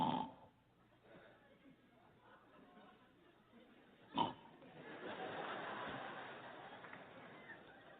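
A man imitates snoring with a short, loud, pig-like snort, then a rougher, drawn-out rasp, set against low background noise and speech.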